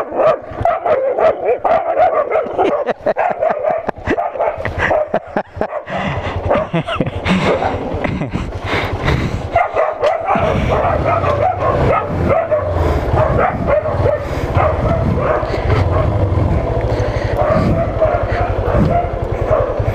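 Loud, excited barking and yipping from a close dog in a rural area, almost continuous, with a person talking over it.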